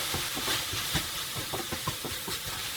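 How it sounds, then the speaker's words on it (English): Vegetable stock hits a hot pan during a vegan curry fried rice stir fry, giving a loud continuous hiss broken by short bursts of stirring and bubbling, with no talk. "I'm just going to add a little bit of this stock, probably about a tablespoon at a time, just to loosen it off a bit."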